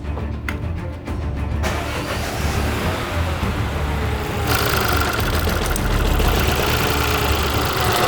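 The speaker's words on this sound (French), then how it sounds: "Allez, un coup de démarreur." A Peugeot PureTech car engine is cranked and runs at a loud, steady idle, close up, with the rumble continuing throughout and a brighter, harsher tone in the second half.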